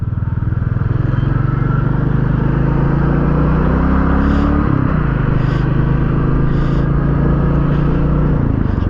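A 2021 Royal Enfield Classic 350 BS6 single-cylinder motorcycle engine runs close by with a loud, steady low thrum, its pitch dipping briefly once midway before settling back to an even idle-like beat.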